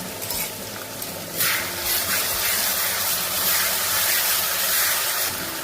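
Ginger, garlic, green chilli and tomato paste sizzle in leftover bhetki fish oil in a pan, a steady, loud frying hiss that swells as the paste hits the hot oil and carries on unbroken.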